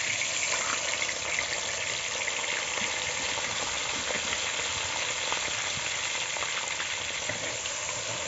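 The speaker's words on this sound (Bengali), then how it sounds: "ক্যাপসিকামগুলো আমি আগে থেকে লবণ দিয়ে মেখে রেখেছিলাম। এখন আবার তেলের মধ্যে ছেড়ে দেব।" Salt-rubbed capsicum pieces frying in hot oil for Bengali-style fried rice, a steady, close hiss and crackle that holds evenly throughout with no talking.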